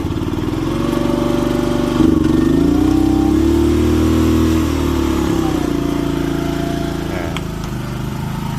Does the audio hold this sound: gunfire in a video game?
no